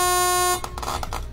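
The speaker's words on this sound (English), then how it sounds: "That's a low beep." A sustained low electronic buzzing beep from the Geometry Dash video game meme, steady and loud for about half a second before breaking into choppy, fluttering noise bursts.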